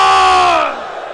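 A large crowd at a Jashn-e-Abbas religious gathering in Lucknow shouts the Haidari slogan in unison, a loud sustained chorus of voices that tapers and fades toward the end.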